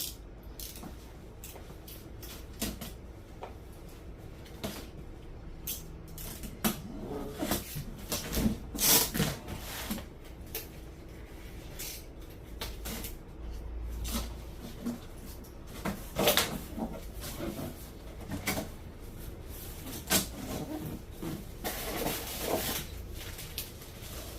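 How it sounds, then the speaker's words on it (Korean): Cardboard creaks, scrapes and rustles as a Canon GX7092 printer box is opened, with scattered tearing and thumping handling sounds in a quiet room. "먼저 박스 개봉을 한번 해보겠습니다."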